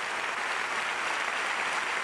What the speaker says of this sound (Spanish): Y qué aplauso tan profundo.